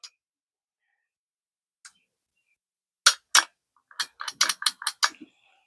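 Throttle trigger on a Homelite 26cc string trimmer being squeezed and released, a short series of crisp plastic clicks and ratcheting snaps, sparse at first then quicker in a cluster near the end, close and dry with no engine running.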